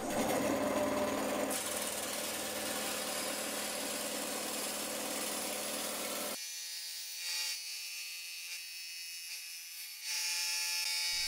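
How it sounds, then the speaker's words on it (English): A bandsaw fitted with a metal-cutting blade and lubricated with oil saws through steel, a steady loud grinding whine that drops to a thinner, quieter tone partway through as the cut changes, with no talking. "I switched to my bandsaw with a metal cutting blade, applying some oil to keep the blade cooler."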